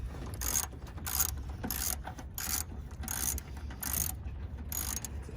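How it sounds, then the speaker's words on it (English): A ratchet fitted with a 9/32 socket loosens a screw while a headlight bulb is changed on a 2006–2014 Chevy Impala, giving close, crisp repeated clicking bursts in a steady back-and-forth rhythm with no talk. "we're using a 9/32 socket, okay? We're going to loosen this screw right here"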